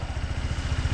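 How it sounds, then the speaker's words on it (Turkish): A first-generation Honda PCX scooter engine runs steadily after a rebuild, with a close, even, low-pitched mechanical idle and a light, regular pulsing beat, and no voices. "Yaptığımız masraf motorun sesini kesti."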